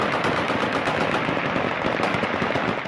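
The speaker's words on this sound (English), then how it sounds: "Ominous gunfire ringing out at the Kabul airport." Rapid bursts of automatic gunfire crackle continuously at Kabul airport, dense and loud, with no talking.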